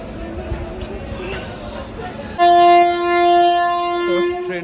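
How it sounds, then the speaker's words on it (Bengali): A passenger train bound for Lalgola pulls out of a brief halt station platform; low rumbling and murmur lead into a loud, sustained horn blast that starts midway and holds to the end. "তো ট্রেনটা ছেড়ে দিচ্ছে"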